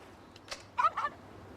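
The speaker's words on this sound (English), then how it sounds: "The dog sounded like a bird for a second." A dog in the Yakuza 4 video game gives a short bird-like call, two quick squawking bursts over a quiet game background, mid-loud and close.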